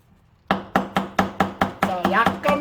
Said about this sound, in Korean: 당근도 칼질 잘하신 사장님은 채 썰면 되는데